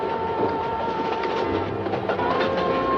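A train rolls steadily along the tracks with continuous rumbling and rhythmic clickety-clack, a sustained tone running through, loud and close, with no talking.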